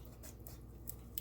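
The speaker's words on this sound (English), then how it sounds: "You need some good scissors for this, let me tell you." Quiet, close kitchen-scissor snips through raw chicken, four or five crisp cuts in quick succession over a faint low hum, with no voices.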